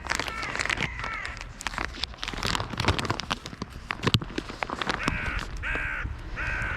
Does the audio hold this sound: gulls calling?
yes